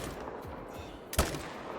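A single sharp rifle shot rings out at a whitetail deer in the mountains of Alberta, in the hunting video game Call of the Wild, standing alone against a quiet outdoor background.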